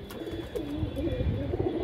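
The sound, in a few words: pigeons cooing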